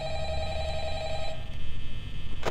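A telephone rings in the Five Nights at Freddy's night-one office, a steady electronic bell tone that holds for over a second and then stops, leaving background game ambience with a brief burst near the end.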